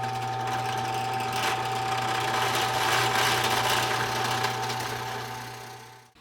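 A power drill with a 2 mm bit bores bridge post holes in the body of a Ceres Theta guitar build for a Floyd-style bridge, giving a steady, continuous whirring drone that holds for several seconds before stopping.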